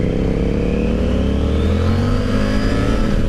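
A 2021 Triumph Tiger 900 Rally Pro accelerates hard, its engine note climbing steadily in a loud, close, continuous rising roar through the gear, with no voices.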